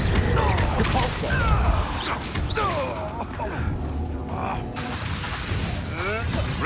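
In Hogwarts Legacy, a Depulso spell goes off in the middle of busy combat, giving a forceful whooshing blast among crashing, clattering magical impacts, with a voice now and then underneath.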